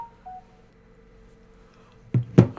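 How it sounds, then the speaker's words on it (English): Short phone notification tone: a faint beep at the start, then near-silence with a low hum, before two sharp, louder clicks or taps near the end. "that was a notification"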